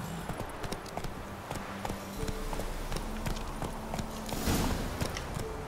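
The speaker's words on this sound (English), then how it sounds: "Whoa there, Roach." The horse Roach walks at an even pace in the video game The Witcher 3, its hooves clip-clopping steadily and fairly close over faint ambient outdoor sound.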